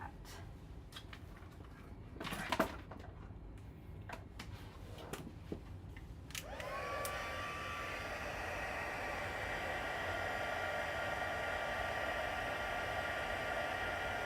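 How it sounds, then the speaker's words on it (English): A heat tool melts clear embossing powder on a stamped card. Quiet handling clicks come first, then the blower switches on with a rising whine and keeps a steady, close rushing hiss. "And then we're going to heat set that."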